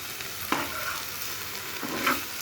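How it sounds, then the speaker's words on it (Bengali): Leafy greens are stir-fried in a pan, giving a soft, steady sizzle with two brief spatula scrapes, quiet and close. "দেখো ভাজা ভাজা কিন্তু হয়ে যাচ্ছে"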